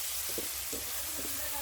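Bitter gourd (ampalaya) tipped into a hot pan with sautéed garlic, onion and tomato, giving a steady quiet sizzle with a few soft stirring scrapes and clatters, no talk.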